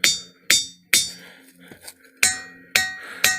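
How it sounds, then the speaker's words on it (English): Sharp metallic clangs from a hammer hitting the Ringing Rocks of Whitehall, Montana, six strikes at uneven intervals, each ringing out with a bright bell-like tone that decays. "They make tones when hit with a hammer."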